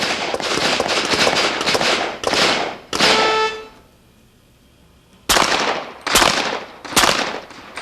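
Pistol shots fired at a target at 25 yards ring out as a sharp, loud series of cracks, grouped in quick bursts with a short quiet gap midway, close and without talk.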